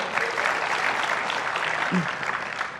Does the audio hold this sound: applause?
yes